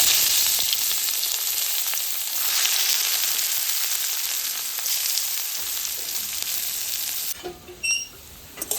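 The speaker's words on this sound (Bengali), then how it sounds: "তেলটা গরম হয়ে এসছে, পেঁয়াজগুলো দিয়ে দিচ্ছি।" Onions sizzling in hot oil in a wok, a dense continuous frying hiss heard up close, easing slightly near the end as a few faint clinks sound, with no talking.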